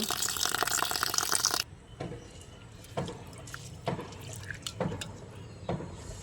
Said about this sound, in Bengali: চার পাঁচবার ভালো করে ধুয়ে নেব